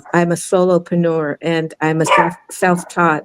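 Household dogs barking indoors, blended beneath someone talking steadily throughout, the barks not standing out clearly from her voice.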